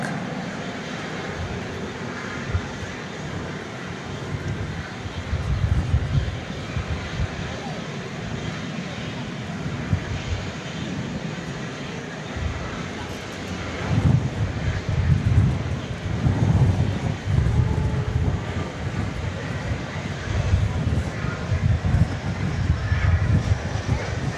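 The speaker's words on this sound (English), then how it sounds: "There's that other A300, which has taxied out now." Airbus A300 jet taxiing at DFW Airport at night, a steady broad engine roar with rumbling swells from a distance, wind noise on the microphone throughout.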